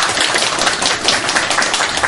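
A church congregation claps in thanks for its choir: dense, steady applause from many hands filling the whole stretch evenly, with no voices standing out.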